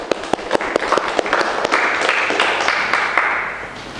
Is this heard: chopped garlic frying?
no